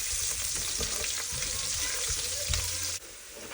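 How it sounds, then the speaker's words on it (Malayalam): Ginger and garlic sauté in hot oil in a pan for a Kerala-style sesame (ellu) curry, giving a steady close sizzle with a few stirring scrapes. The sizzle drops quieter near the end. "ഇനി നമുക്ക് ഇഞ്ചിയും വെളുത്തുള്ളിയും കൂടി ഇട്ട് കൊടുക്കാവേ. എന്നിട്ട് നല്ലപോലെ ഇളക്കി ചെറുതായിട്ടൊന്ന് വഴണ്ട് വരട്ടെ."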